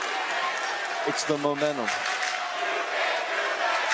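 A crowd in a high school boys basketball gym keeps up a loud, continuous roar of cheering, with a commentator's voice briefly audible over it.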